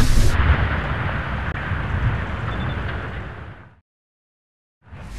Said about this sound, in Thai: เมื่อวิศวกรกดสวิตช์หอทั้งหมดก็พังทลายลงมาจนราบอย่างที่เห็น